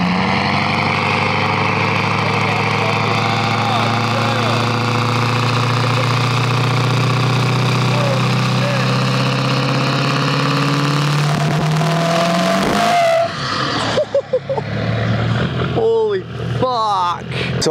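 Ford Powerstroke diesel truck engines, a tuned 6.0L with a stage 2 cam and a stock 6.7L, idle loudly with a steady rumble, then rev near the end in several sharp bursts.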